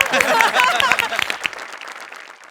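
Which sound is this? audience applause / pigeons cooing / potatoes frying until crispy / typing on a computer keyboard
audience applause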